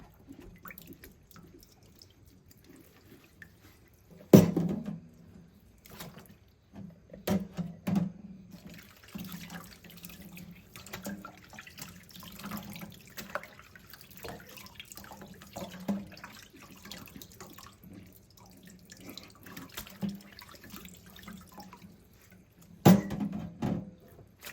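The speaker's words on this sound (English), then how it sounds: "now we're gonna just rinse them out with warm water" Warm tap water runs and splashes while glass canning jars are rinsed, with scattered drips and a few sharp clinks of glass against glass or the sink over a soft, continuous flow.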